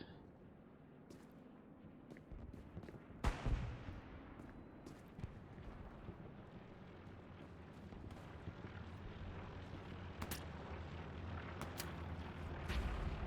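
Distant, faint gunfire and battlefield rumble from the World War II shooter game Hell Let Loose, with scattered sharp shots and one louder crack over a constant low background drone.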